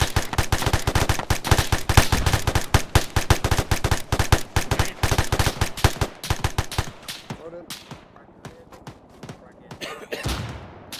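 Rapid automatic gunfire at an enemy fortification in Arma 3, loud dense bursts for about six seconds, then scattered single shots and thuds, with voices talking over the firing.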